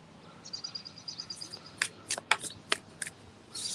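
Cards riffle and snap through a shuffle, with a soft fluttering run followed by several sharp, distinct clicks and a final rapid burst, close to the microphone.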